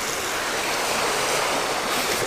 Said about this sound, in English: There's a lot of water going down this road.